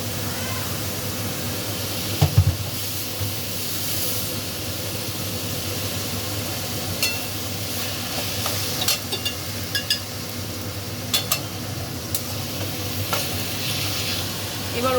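Chopped chicken stir-fries in a pan with green chili and black pepper, giving a steady sizzling hiss with scattered clinks and scrapes of stirring; a voice speaks quietly underneath.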